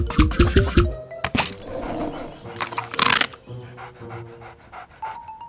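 Cartoon puppy panting in a children's animated show, a quick run of loud rhythmic breathy pants at the start, followed by a busy mix of animal noises, a sharp burst and a few soft chimes.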